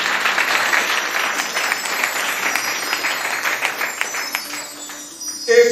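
A church congregation applauds in sustained, dense clapping that holds steady for several seconds, then thins out and fades toward the end, with a brief louder sound at the very close.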